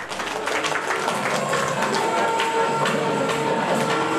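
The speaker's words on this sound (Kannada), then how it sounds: "ಎಲ್ಲ ತಮ್ಮ ಜೋರಾದ ಚಪ್ಪಾಳೆ ಮೂಲಕ ಅವರಿಗೆ ಅಭಿನಂದನೆ." An audience at an award felicitation event claps steadily, a dense, sustained applause that stays loud and even throughout.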